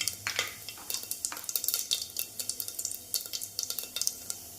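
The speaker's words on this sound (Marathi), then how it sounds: "जिरे मोहरी व्यवस्थित तडतडून द्यायची." Rapid crackling pops of mustard and cumin seeds spluttering in hot oil, irregular and close, with a faint sizzle underneath and no voices.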